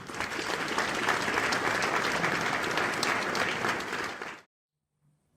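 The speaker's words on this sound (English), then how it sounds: "Let's welcome him with a cheering." A large audience applauds to welcome a company chief executive onstage at a corporate awards event, dense clapping that holds steady, then cuts off abruptly into silence.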